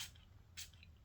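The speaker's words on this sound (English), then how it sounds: "So I'll show you the atomizer, plastic atomizer, but it sprays strong. It's a good spray." A plastic atomizer on a cheap citrus cologne bottle gives two quick, faint spritzes about half a second apart, soft hissy bursts against a quiet background.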